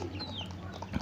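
Free-range village chickens in a netted outdoor run give a brief, faint cluck against quiet background noise.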